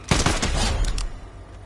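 Gun tap-fired in Fortnite, a quick burst of several sharp shots in rapid succession, loud and close, then fading into quiet.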